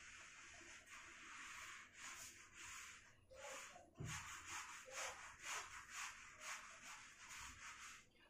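Eraser rubbing writing off a classroom board in repeated scrubbing strokes, close and fairly loud, a soft thud partway through, no talking.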